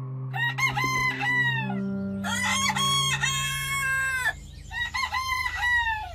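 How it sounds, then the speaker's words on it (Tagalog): A rooster crows three times in a row, loud and clear, with a low steady hum running underneath. "narinig na namin ang pagtilaok ng manok"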